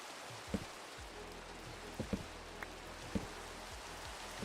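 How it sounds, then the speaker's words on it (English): Rain falls in a Minecraft world as a steady, soft hiss, with a few faint clicks and taps over the top, quiet and without talking. "Ooh, it's raining."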